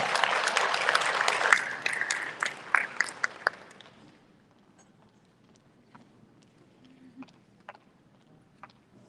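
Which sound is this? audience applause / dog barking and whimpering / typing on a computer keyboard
audience applause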